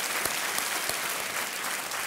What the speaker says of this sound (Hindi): तालियों के साथ इनका एक बार और अभिनंदन